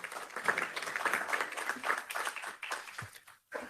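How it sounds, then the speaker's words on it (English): An audience in a conference room breaks into applause, a soft, dense patter of many hands clapping that fades out near the end. "the applause of everyone in the room says it all"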